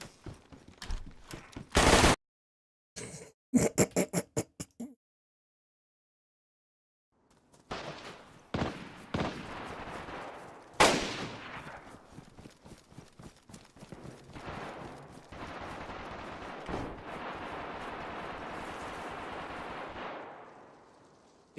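Video game gunfire comes in sharp bursts and rapid volleys of shots, separated by brief silences, then turns into a dense, sustained barrage of firing and clatter.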